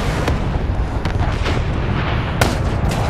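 Shotgun blasts in Call of Duty: Black Ops III multiplayer, a few sharp booming shots spaced irregularly over a dense rumbling battlefield din, loud and close, with no talk.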